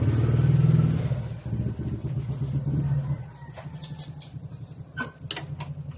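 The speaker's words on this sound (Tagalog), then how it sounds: "May dumaan na motor." A motorcycle passes close by, its low engine drone loud at first, then fading away over a few seconds, leaving faint scattered clatter behind.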